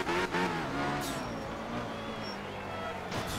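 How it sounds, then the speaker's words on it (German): Rally car engine in the Art of Rally video game, a steady droning motor note holding and shifting in pitch, loud and continuous with a couple of brief whooshing bursts. "Und ich mag den Motorsound eher mehr."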